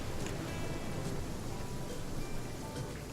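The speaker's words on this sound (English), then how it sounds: "As it is currently raining, it's a little hard to see." Dense, steady rain pours throughout in The Flame in the Flood, a constant wash of hiss and patter with no voices.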